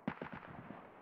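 A single gunshot in the shooter game Escape from Tarkov, a distant sharp crack followed by a rolling echo that fades over about a second, faint and alone.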